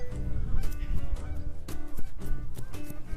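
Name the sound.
geese honking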